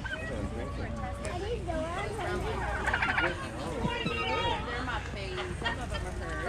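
A flock of guinea fowl calls nearby in a dense, continuous chorus of harsh chattering and squawking cries, with people's voices faintly mixed into the babble.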